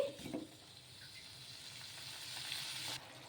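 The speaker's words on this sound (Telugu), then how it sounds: "బాగా మీడియం ఫ్లేమ్లో పెట్టేసుకొని ఈ టమోటా ముక్కలు బాగా మెత్తబడే వరకు మగ్గించుకోవాలి" Tomato pieces for tomato chutney softening in a pan over a medium flame, a faint, steady sizzle with a brief stirring clatter near the start, heard alone without voices.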